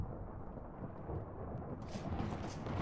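Thunder in the Minecraft video game, a low continuous rumble rolling under hissing rain-like noise, moderately loud and building slightly toward the end.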